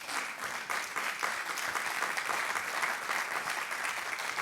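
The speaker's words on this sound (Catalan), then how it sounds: "Un aplaudiment per ells." Audience applauding at a congress session on Catalan classical music, dense sustained clapping from a sizable crowd filling the room, steady throughout with no one speaking over it.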